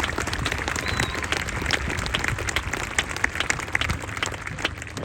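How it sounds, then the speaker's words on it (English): Steady applause from a graduation ceremony crowd for the class of 2022, dense and continuous clapping at moderate loudness for the whole stretch with no clear talk over it. "Let's have a round of applause for everyone that helped the class of 2022."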